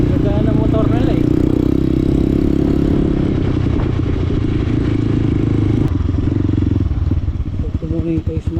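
Trail motorcycle engines run loud and steady on a muddy, rain-soaked trail, a continuous mid-pitched drone that fades and turns choppy near the end, with people talking over it.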